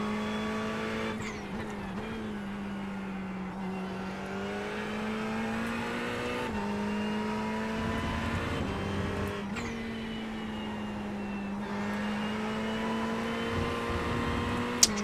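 Race car engine in a VR racing video game drones and shifts pitch continuously, with repeated gear changes and brief tire squeals, loud and close with no talking.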